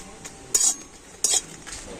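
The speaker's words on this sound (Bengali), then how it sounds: "লঙ্কা কটা আমি আগেই ভেজে নিচ্ছি একটু" Dried red chillies dry roasting in a wok, two distinct metal utensil scrapes and clinks against a quiet background.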